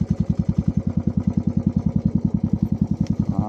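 A heavy Bullet motorcycle thumps along a rural track, its single-cylinder engine pulsing in a fast, even, close beat that holds steady throughout, with no talking.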